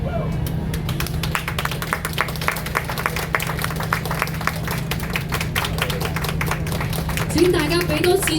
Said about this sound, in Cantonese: 請大家俾多次再熱烈啲嘅掌聲俾我哋無伴奏合唱工作坊嘅咁多位